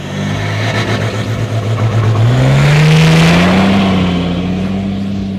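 Toyota Landcruiser 300 series engine revving up hard as it launches from a standstill, a loud, steady rising drone that climbs in pitch and holds, with no talking.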